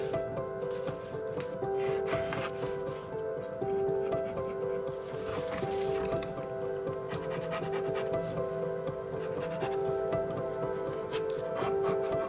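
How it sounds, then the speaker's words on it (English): Pattern pieces for a reconstructed Dior gown are traced onto fabric, giving continuous close rubbing and scratching strokes. Steady tonal background music plays underneath. "I'm just going to trace all the pieces."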